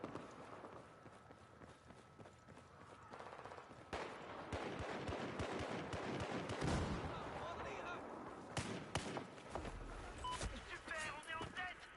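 Gunfire and grenade blasts in the video game Battlefield 4, with bursts of rapid shots, sharp cracks and a deeper explosion rumble, moderately loud, mixed with footsteps and occasional talk.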